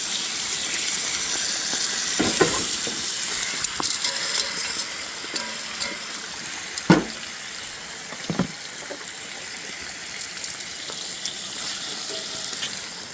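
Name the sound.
bacon sizzling in a pan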